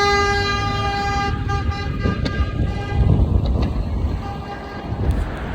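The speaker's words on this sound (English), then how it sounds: "I don't know what they honking about back there." Car horns honk in city traffic, several tonal toots ringing out amid engine and road noise, somewhat distant, with no talking over them.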